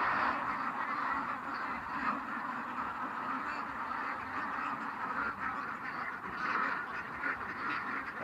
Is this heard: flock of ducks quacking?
yes